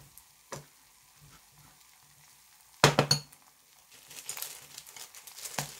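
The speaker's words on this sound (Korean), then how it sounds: "밥 한 공기를 데웠어요" A bowl of rice warms in a pan, giving faint scattered sizzles and stirring scrapes, with a sharper crackling burst midway and soft patter after; no talking.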